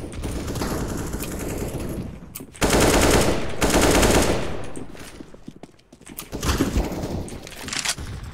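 Bursts of AK rifle fire in a video game, loud sustained automatic volleys separated by short pauses, with other game sounds between bursts.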